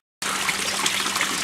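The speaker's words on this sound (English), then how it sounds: "The water's just slowly coming to the top. Hopefully it goes out these overflow pipes into the fountain" Water flowing out of the overflow pipes of a homemade koi pond biofilter into a fountain, starting abruptly after a brief silence as a steady, close trickling and splashing stream with no voices.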